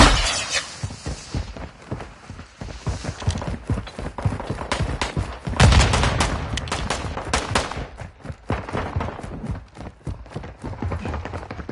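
Gunfire from GTA cracks out in rapid, repeated loud shots, bursts of close fire spread across the clip with brief gaps and a heavy volley in the middle.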